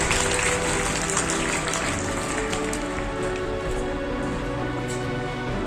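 Applause at a school painting-competition prize-giving, a dense continuous patter of clapping that holds steady throughout over a low background hum.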